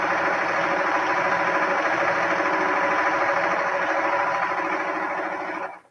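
A serger stitches a long seam on a jelly roll quilt, a fast, steady mechanical whir running continuously up close before slowing and stopping at the end, with no voices.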